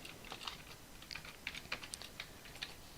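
Quiet typing on a computer keyboard with a quick, irregular run of soft key clicks.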